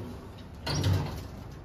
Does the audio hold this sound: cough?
no